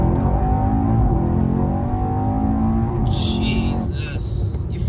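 A tuned 700 bhp Mercedes E63 AMG launching and accelerating hard, a loud, steady engine roar heard from inside the car, ending with a brief high rattling noise near the end.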